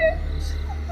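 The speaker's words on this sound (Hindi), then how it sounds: "अनन्या को अलमारी के अंदर से हल्की हल्की रोने की आवाजें सुनाई देती है।" Faint crying from inside a wardrobe, a few soft, wavering whimpers rising and falling over a low steady hum.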